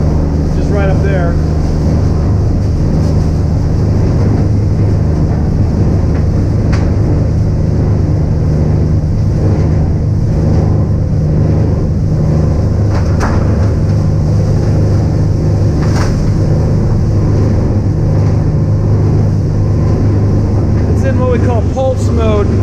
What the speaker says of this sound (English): So the ram's driving the material now towards the rotor, just right up there.